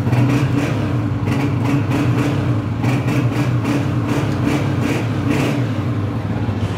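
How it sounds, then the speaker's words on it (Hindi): A used Honda motorcycle engine idles close by with a deep, steady, bassy hum and slight rhythmic throb that holds unbroken throughout. "बड़ी अच्छी बेस में इंजन बोल रहा है।"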